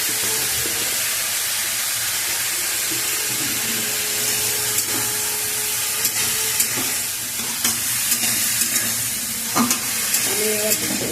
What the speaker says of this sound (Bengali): এবার এটাকে খানিকক্ষণ নাড়াচাড়া করবো।